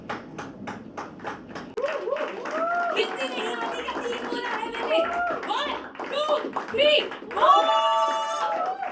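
Audience applause at a Hindi television talent competition: a short run of brisk claps at the start, then voices speaking loudly over the fading clapping for the rest of the clip.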